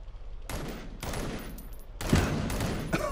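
Gunfire in the VR shooter Crisis on the Planet of the Apes: a few sharp, loud bursts of shots spaced about half a second to a second apart, close and punchy, with no talking over them.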